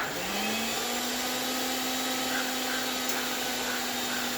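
A steady, loud electric motor whine drones continuously, a power paddle mixer running at constant speed mixing tile cement, with a broad rushing hiss over a low hum.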